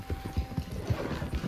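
A horse's hooves clip-clop in an uneven trot in Red Dead Redemption 2, with a brief whinny mixed in, fairly close and without talk.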